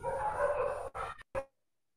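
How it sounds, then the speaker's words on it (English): A dog barks over an online class call: a run of loud, sustained barking followed by two short, sharp barks, then silence. "I think your dog is barking."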